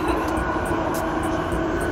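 Metro train running through an underground tunnel, a loud continuous rumble and rattle heard from inside the carriage, steady throughout with a faint rhythmic clicking from the wheels.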